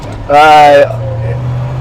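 A 1966 Chevrolet Impala engine revs hard once, a loud, rising roar that drops back to a steady, low idling rumble.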